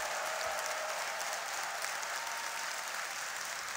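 Applause from a church congregation during a Korean teachers' appointment service, a steady even wash of clapping lasting several seconds, fairly distant and moderate in level, with no voices over it.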